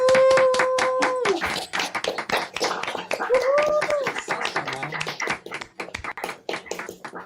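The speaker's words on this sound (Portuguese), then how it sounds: "Vou puxar uma salva de palmas aqui." A round of applause closes a final session, with sharp, close hand claps in an uneven, chaotic rhythm and a few tonal voice-like calls or whistles rising over the clapping before it trails off.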